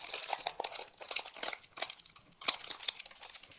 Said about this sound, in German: ein Stück von eurem raschelnden Papier aus und dann spannt ihr das Papier mit dem Gummiband über die Öffnung der Rolle